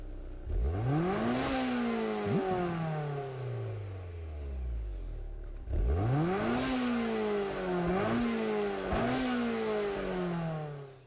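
Honda Integra DC2 with a B18 engine revving in GT Sport, repeated sharp climbs in pitch through the gears with brief drops between shifts, loud and close with no talking.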